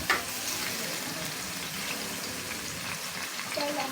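Two medium chopped onions drop into a pan of hot oil and fry with a dense, steady hiss and crackle close by.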